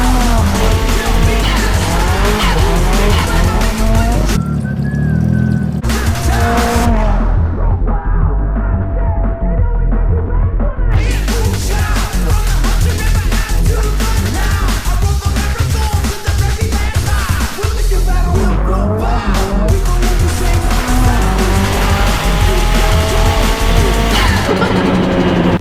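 Nissan S15 street drifting, a loud revving engine with long screeching tire squeal running almost throughout, brief drops as the throttle lifts, near and intense.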